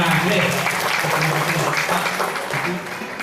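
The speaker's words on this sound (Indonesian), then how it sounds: "Tepuk tangan semua." A church anniversary celebration audience claps after a speech, the applause moderately loud and mixed with murmuring voices and chatter before it tapers off slightly at the end.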